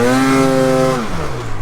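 A stuck vehicle's engine revs hard under heavy throttle while trying to climb uphill through powder snow, a loud, steady high-pitched whine that drops off toward the end.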